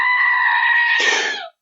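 A goat scream sound effect played from a soundboard: one loud, sustained, human-like bleating shriek that rises into a harsher cry before cutting off abruptly.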